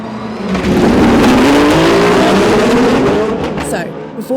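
Aston Martin Valkyrie hypercar's V12 engine running loudly and steadily at close range, a rising engine tone sustained throughout, with a voice talking over it.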